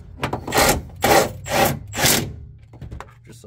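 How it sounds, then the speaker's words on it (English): A 13 mm stainless bolt is tightened through the OEM bracket of a light bar mount on a fifth-generation Ram truck, producing four close rasping ratchet strokes in a steady rhythm, then a few faint clicks. "So we're gonna go ahead and tighten this 13 millimeter down."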